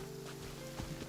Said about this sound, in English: Of course you like the rain.